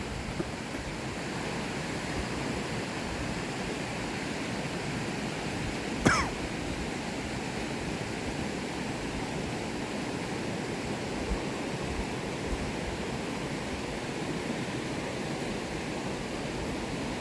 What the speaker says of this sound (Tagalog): Mamarinig mo talaga lagas-gas ng tubig, sobrang lakas.